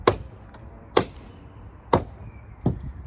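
Four sharp creaking clunks from the door hinge of a Renault Megane Cabriolet coupe, evenly spaced about a second apart, close and distinct over a quiet background.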